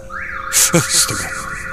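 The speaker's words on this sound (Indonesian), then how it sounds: "mendengar suara alarm mobil yang berbunyi di basement" A car alarm wails in a basement parking area with a rising and falling tone, interrupted briefly by a louder burst of noise partway through.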